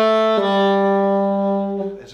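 A guitar plays a Dorian minor line over a minor chord, two sustained notes ringing long and clear up close with no talk, the second note entering early and both holding to the end.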